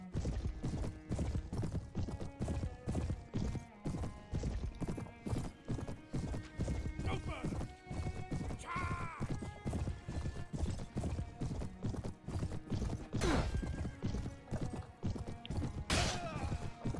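Noldor horses in the Mount & Blade: Warband mod Prophecy of Pendor gallop in a dense, continuous clatter of hoofbeats during a cavalry charge, with a few neighs rising over the thumping.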